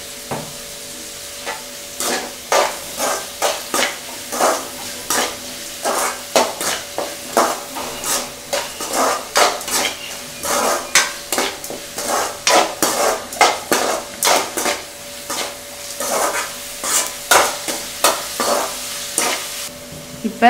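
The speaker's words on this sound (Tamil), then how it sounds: "இப்போ வெங்காயம் நல்லா வதங்கிடுச்சு" Steady stirring and scraping of onions sautéing in a frying pan for rava kichadi, with a soft sizzle underneath, spatula strokes repeating in a quick irregular rhythm, close and fairly loud.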